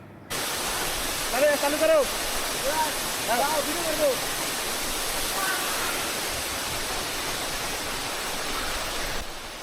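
Risang waterfall near Khagrachari and Matiranga, Bangladesh, gives a steady, full rush of falling water that fills the scene from start to end, with faint voices briefly audible early on.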